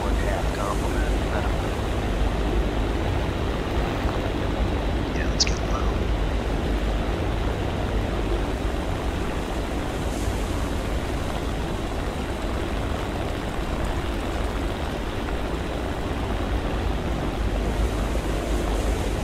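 A WWII-era aircraft on an anti-submarine patrol over the ocean near Guadalcanal in War Thunder, a steady loud engine drone and wind rush that holds throughout with little change.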